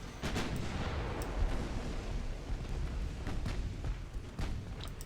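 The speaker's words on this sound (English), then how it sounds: "Come on, big guns. Do your thing." Battleship big guns fire in the naval game Ultimate Admiral: Dreadnoughts, with repeated booms over a dense, continuous rumble of battle noise.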